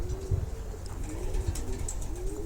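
Low, soft cooing from a pair of pigeons nearby, repeated murmuring calls over a constant outdoor background hum.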